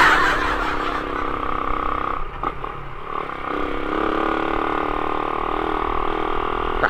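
A motorcycle engine labouring up a steep road, a steady droning hum near the rider with a short rattling dip partway through before the strained tone holds on.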